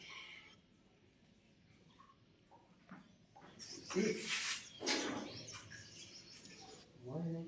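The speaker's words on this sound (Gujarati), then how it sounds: "અહીંયા રોજ ચકલીઓ આવે છે સવારના." Sparrows visit in the early morning to peck at scattered grain, giving faint, scattered chirps in a quiet outdoor setting, with a few louder rustling bursts and a brief voice near the end.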